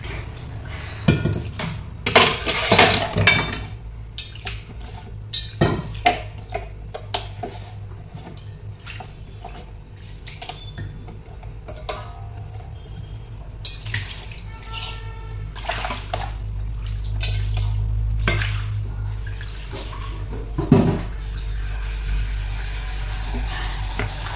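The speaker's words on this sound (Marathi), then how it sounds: "चला आता ही भांडी आवरते" Intermittent clinks and clatters of dishes and pots being handled, with running water and splashing in between, close by and uneven in rhythm.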